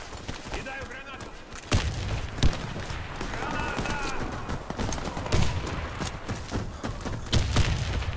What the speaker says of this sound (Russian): Граната! Граната пошла!